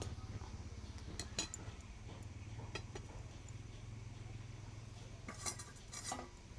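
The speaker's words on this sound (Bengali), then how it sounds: "দুধটাকে এইভাবে কিন্তু সবসময় নাড়তে হবে" A spoon stirs thickened milk in a metal pot, with repeated light scraping clinks spread across the clip over a low background hum, fairly faint and without speech.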